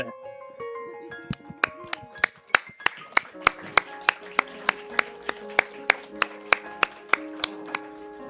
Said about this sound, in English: A round for applause